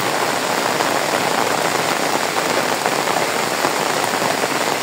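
Heavy rain pours steadily outside a house in Bangladesh, with a dense, even hiss of drops on surfaces and standing water, loud and unbroken throughout.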